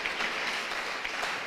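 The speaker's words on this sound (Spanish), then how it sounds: "Póngase en pie y dele ese aplauso al Señor Jesucristo." Congregation clapping together during a church worship service, a dense steady wash of applause filling the room with no pauses.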